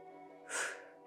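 One quick, sharp breath pushed out through the nose during a morning stretching workout, short, breathy and close, rising briefly over a quiet background hum.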